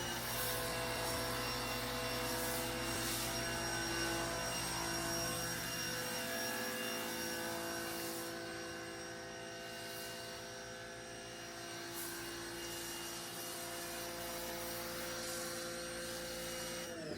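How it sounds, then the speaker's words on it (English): Car-wash pressure washer running continuously, a loud steady motor drone with tonal hum that dips slightly midway and then resumes, with intermittent hissing bursts of spray over it. "Oh, forgot to turn on the pressure washer"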